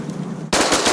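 Shotguns fire from a duck blind at mallards over a pond, opening with a sudden loud blast and a fast string of echoing reports after a quiet start.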